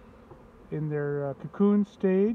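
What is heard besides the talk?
honey bees buzzing in hive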